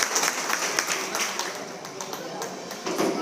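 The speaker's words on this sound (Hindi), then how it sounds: "उनके लिए जोरदार तालियों से" Applause from a gathered audience at an executive committee event of a Chhaparband Muslim community reform association in Satana, Baglan taluka, with steady crowded clapping under a voice.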